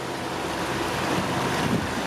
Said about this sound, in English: We are motoring as we arrive in Madeira.